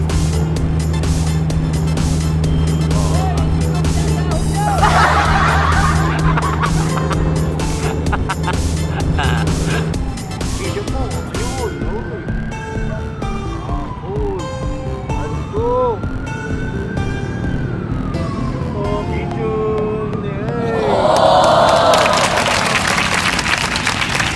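Roadside traffic rushes past continuously, with engine drone and passing vehicles rising and fading, and a louder whoosh near the end; voices talk over it at times.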